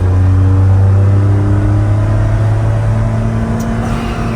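A 1993 Suzuki Carry Joy Pop kei van with automatic transmission cruises along, its small engine holding a steady low hum and drone from inside the cabin, with no talk over it.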